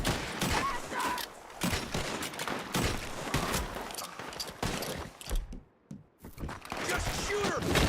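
Gunfire in the Western video game Red Dead Redemption 2, dense bursts of shots mixed with shouting voices and game action, nearly continuous with a brief lull before resuming loudly.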